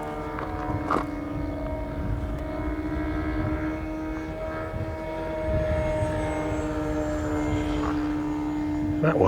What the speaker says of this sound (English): Actually a model jet fighter, an actual model jet engine.